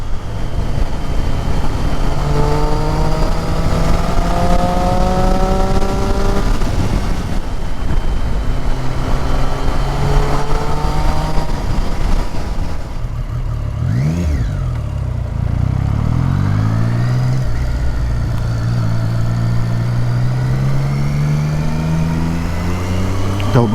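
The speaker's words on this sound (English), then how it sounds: "Don't know why I revved up then." A Triumph Street Triple R motorcycle engine drones steadily up close, with rising and falling pitch as it revs and shifts, wind rushing over it.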